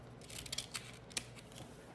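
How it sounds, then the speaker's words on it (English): Quiet, crisp snips of scissors, several quick cuts in an irregular rhythm, close by with faint background hiss. "Scissors were loud."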